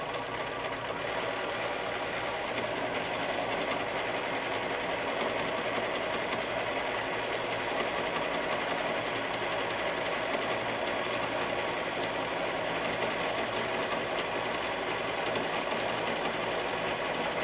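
A sewing machine runs a zigzag satin stitch on a crazy patch quilt block, humming steadily and continuously at close range without a break.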